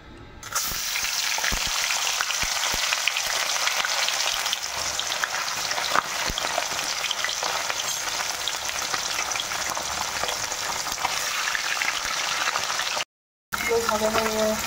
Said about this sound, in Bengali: সরষের তেল আমি দিয়ে দিচ্ছি মাছ ভাজার জন্য